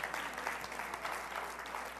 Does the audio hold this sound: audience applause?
yes